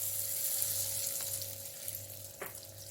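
Peanuts frying in a pan give a soft, steady sizzle with a constant low hum and a couple of brief stirring scrapes, close but quiet.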